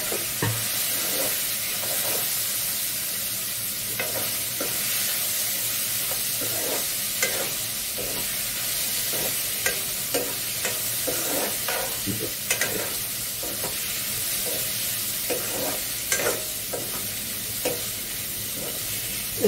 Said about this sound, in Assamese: এইখিনি অলপ দেৰি ভাজি ল'ম